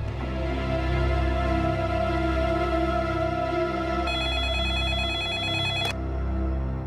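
A phone rings steadily as a call is placed to City Hospital, a continuous electronic ring tone heard close and alone, cutting off abruptly near the end with no voices.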